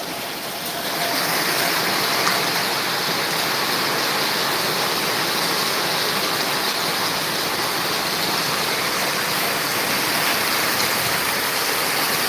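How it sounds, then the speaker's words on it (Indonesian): Heavy rain in Padang, Indonesia, pours down in a steady, dense roar that holds constant throughout, with no voices. "Hari ini Padang lumayan hujan lebat setelah beberapa hari panas"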